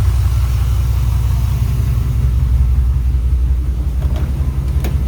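A car engine idles steadily after an alternator replacement, a continuous low rumble close by with no speech over it.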